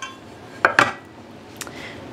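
Bread baking pans being handled in a home kitchen, giving two close metallic clanks in quick succession and a lighter knock a moment later, with no talking.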